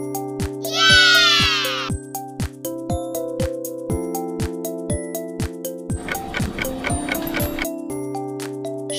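A single sheep bleats loudly and close over a backing track of steady ticking clock beats and light musical tones in a children's animal guessing game; the bleat comes early, with no talk.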